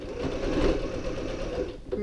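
Sewing machine running a short reverse stitch while quilting, a steady close mechanical whir lasting about two seconds with no pause.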